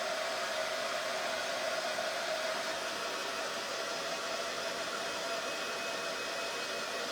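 A hair dryer blows a steady, loud, even whoosh while drying craft paint, running continuously and close by with no pauses and no talking.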